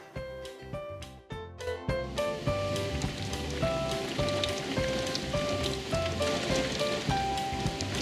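Rain falls steadily in a children's climate-change lesson, a continuous pattering wash mixed with soft musical tones, beginning quieter and growing fuller after the first two seconds.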